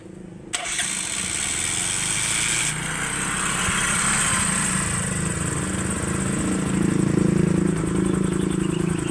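A small Bajaj Rouser 135 motorcycle engine sputters to life and keeps running close by, a steady buzzing idle that rises slightly in pitch toward the end.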